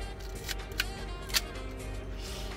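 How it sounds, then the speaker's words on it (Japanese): Shutter of a junk film camera bought at auction, a Nikomat FT2 or Fuji TW3 half-frame, firing on a slow speed: two separate soft mechanical clicks, the second sharper, close by and alone over low room hiss. "スローシャッターも良好。"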